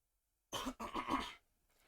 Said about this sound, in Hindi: थोड़ी सी खांसी आ गई थी